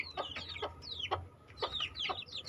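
Several laying hens cluck and squawk in short, overlapping calls in a simple breeding coop, close by and fairly quiet, with a low hum underneath.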